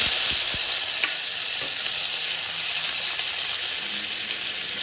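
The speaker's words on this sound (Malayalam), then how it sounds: "ഒരു രണ്ട് വരച്ചൽ മുളക് ഇട്ട് കൊടുക്കാം കറിവേപ്പില ഇട്ട് കൊടുക്കാം" Dried red chillies and curry leaves sizzling in hot oil for a dal curry, a loud, close, continuous crackling hiss with a couple of small pops and no voices.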